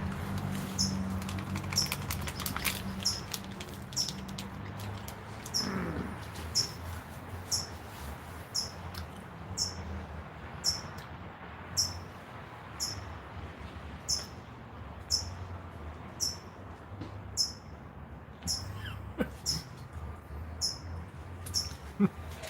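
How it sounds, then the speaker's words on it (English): A bird calls repeatedly, a sharp high chirp recurring at a steady rhythm for over twenty seconds, fairly close and clear above a low outdoor rumble, with a brief louder scrape early on. "That bird sounds like it's in your living room,"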